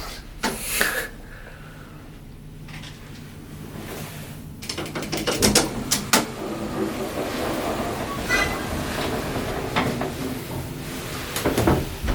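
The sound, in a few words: large swing door of a Turnbull hydraulic elevator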